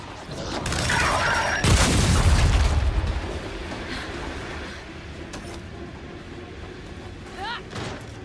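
Grenade blasts in Gears 5 combat, a loud booming explosion with a long rumbling tail early on, followed by fainter distant bangs and game effects.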